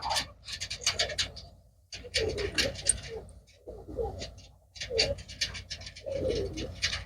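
Pigeons, including a yellow-eyed red Cheena, coo in soft, repeated bursts from close by, with scratching and shuffling between calls and no talking.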